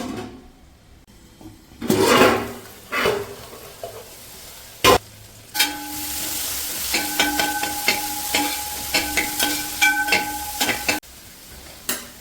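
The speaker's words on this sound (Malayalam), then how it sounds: "മൂടി വെച്ച് ഒരു 2 മിനിറ്റും കൂടെ ലോ ടു മീഡിയം ഫ്ലെയിമിൽ കുക്ക് ചെയ്യാം" Tomato and onion cooking in a covered pan over a low-to-medium flame for a soya chunks pepper roast: soft sizzling, lid clatters and a run of rhythmic stirring scrapes, close and fairly loud, with no voices.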